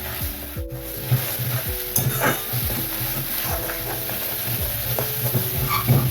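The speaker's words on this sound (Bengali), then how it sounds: "পেঁয়াজটা আমার ভাজা হয়ে গেছে তেল উঠে গেছে" Onions fry in hot oil for a chicken dish, a steady sizzle close by with repeated scraping strokes of a spoon stirring the pan, no voices.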